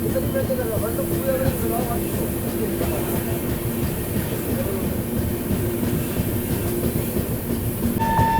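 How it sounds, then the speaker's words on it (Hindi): Panvel–Gorakhpur Express pulling out on the Jhansi–Kanpur line, a steady rumble of wheels and carriages running continuously close by, with a faint horn near the end and some background voices. "अभी ट्रेन निकल रही है"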